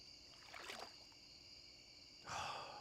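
Crickets by a lake in Stardew Valley keep up a faint, steady high chirping drone, with a couple of soft splashy water sounds rising briefly over it.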